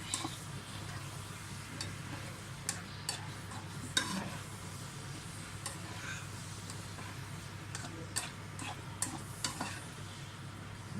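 A coconut chicken mixture gets stirred in a pan, a low sizzle under scattered close clinks and scrapes of the spoon against the metal, fairly quiet overall.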